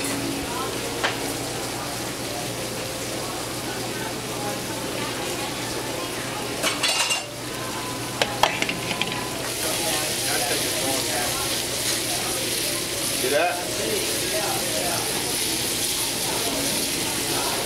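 Chicken Kiev browning in a hot pan gives a steady, close sizzle and frying hiss, with pots and cutlery clattering now and then and someone talking over it.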